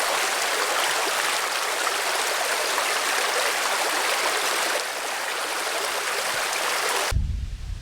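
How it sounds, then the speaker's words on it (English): Small creek near a park on the Swedish Baltic coast flowing steadily as a close, continuous broadband rush and trickle of water, with an abrupt cut near the end. "This is Foldringsströmmen, a small creek near Prinsvillan."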